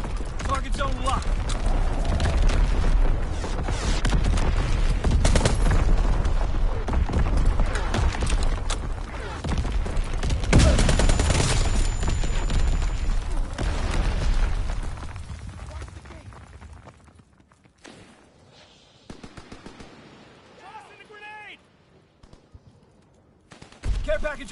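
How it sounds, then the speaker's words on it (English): A rapid artillery barrage in a PS4 war game hammers away with dense, loud overlapping bursts for about fifteen seconds, then fades to scattered distant booms while game voice lines continue. "Firing division artillery."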